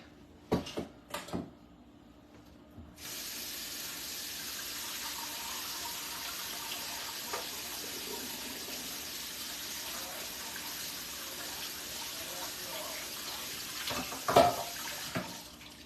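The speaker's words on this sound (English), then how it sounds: "I'm gonna go rinse these out real quick" Running kitchen tap water rinsing white beans in a stainless steel colander bowl: a few brief clatters, then a steady faint gush of water flowing for several seconds, with a couple of knocks near the end.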